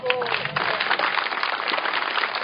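A crowd at a political rally in San Luis Potosí gives sustained applause, a dense, even roar of clapping that fills the space, with a voice briefly heard at the start.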